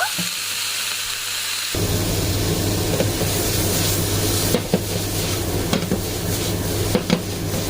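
Homemade broth heating in a pot on the stove gives a steady bubbling, sizzling hiss that picks up after a moment, with a few soft utensil clinks and stirring knocks scattered through it, close by and with no talk.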